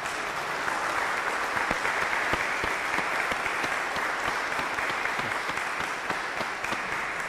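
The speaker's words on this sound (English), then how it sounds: "let's hear a big round of applause" A church congregation gives steady, dense applause that holds evenly throughout, close and full, with no speech over it.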